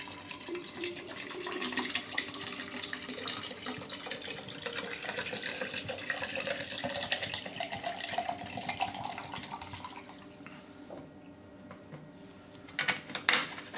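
Preservation liquid poured into the tube of a HiFlo RO30G/RO30C reverse osmosis filter, a steady close-up stream of splashing liquid that runs for about ten seconds before thinning out into a few faint drips.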